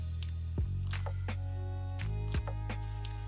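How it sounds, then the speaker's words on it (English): Chicken wings sizzle steadily in hot soybean oil, a low crackling fry with a few sharp pops and clatters as pieces shift in the pan. "this is frying in soybean oil"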